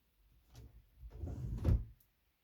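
A bedroom dresser drawer slides open and shut during tidying, a faint wooden scrape followed by a soft rumbling slide and a closing thud, close and quiet.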